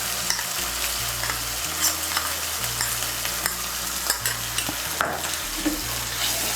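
Cashew and melon seed paste being stirred into capsicum paneer in a hot pan, a steady sizzle with soft, continuous scraping of the spoon throughout, no voices.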